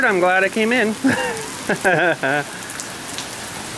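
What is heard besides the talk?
heavy rain pouring during a storm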